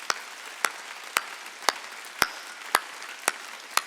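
Slow, evenly spaced single claps in a church, about eight sharp hand claps roughly half a second apart over a faint hiss, rhythmic and isolated rather than a full crowd.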